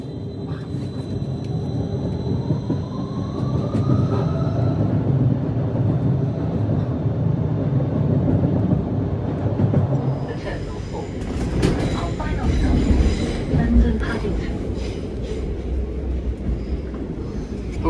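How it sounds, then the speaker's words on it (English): A train rumbles steadily as it pulls away from a station in the Heathrow free travel zone, with low mechanical drone, a rising electric whine, and clanks and rattles later on; no talking. "This train is now ready for departure."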